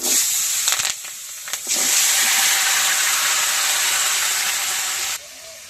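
Cumin seeds and then vegetables hit hot oil in a pan, giving a loud, sustained broadband hiss that starts in short bursts and then holds steady for several seconds before cutting off, with no talk.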